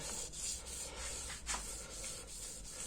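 500-grit sandpaper worked by hand over a 4G63T crankshaft journal, a soft, close rubbing hiss in short back-and-forth strokes, quiet and steady with no voices.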